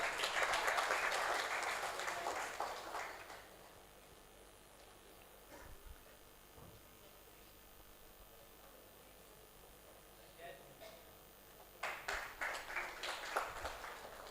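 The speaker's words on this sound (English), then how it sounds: "Huge round of applause." Audience applause at a valedictory ceremony honoring a senior advocate, a burst of clapping from the room that fades into quiet hall ambience, then a second round of clapping rises near the end.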